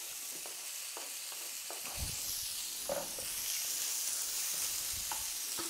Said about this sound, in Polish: Dorzucamy nasze mięso, niech się smaży.